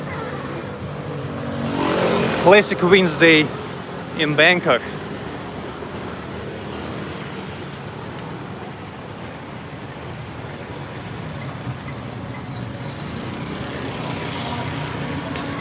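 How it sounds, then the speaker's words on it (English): Busy Bangkok street traffic with cars and motorcycles, a steady roadway rumble throughout, briefly under someone talking near the start. "Lots of people, lots of cars."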